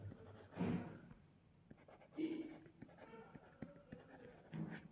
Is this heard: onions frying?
no